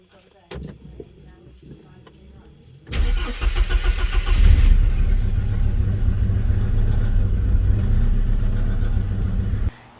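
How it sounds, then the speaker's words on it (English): An old barn-find project car's engine cranks briefly, then catches at about three seconds and runs loudly and roughly up close, trying to idle with uneven firing until it cuts off at the end. "I'm going to try to just crank it over. But I hit it a couple times and it started"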